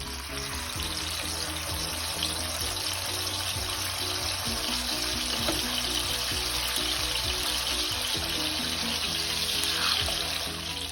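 A salsa-dipped corn tortilla frying in hot oil on medium-high heat for entomatadas, a steady, even sizzle and crackle that holds close and unbroken for the whole stretch.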